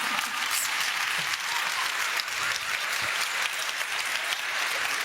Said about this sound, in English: So I really love that you clap